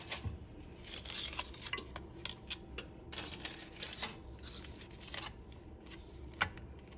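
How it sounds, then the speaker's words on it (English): Dry lasagna noodles dropping and clattering into a soup pot, a quick run of small scattered clicks and knocks with a louder knock near the end, close by and fairly quiet, with no talking. "I'm gonna go ahead and add in my noodles"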